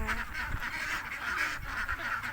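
A flock of farm ducks at a poultry pen in the afternoon quacks continuously, nearby and fairly loud, the calls overlapping in a busy chorus with no talk.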